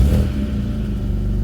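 A BMW E92 335i with the N54 engine and six-speed manual, sitting unused for weeks, cranks and catches, its engine note loud and close in a brief burst that settles into a rough idle.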